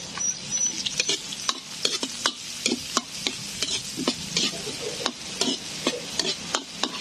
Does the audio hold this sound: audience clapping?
no